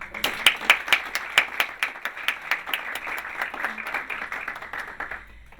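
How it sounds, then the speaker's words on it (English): Applause from the audience at a Parliament House girls' rights forum: a smallish crowd claps with distinct, rhythmic individual claps. It is moderately quiet and tapers off near the end. "Please, a round of applause."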